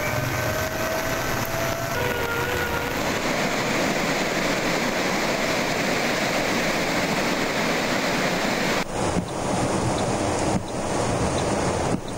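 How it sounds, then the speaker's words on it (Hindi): Floodwater torrent rushing through the Nala Lai stream during monsoon flooding in Punjab, with the water level raised to 20 to 22 feet: a loud, continuous roar of churning water with wind-like broadband noise and no voices. "नाला लई में इस वक्त बड़ा सैलाबी रेला गुजर रहा है"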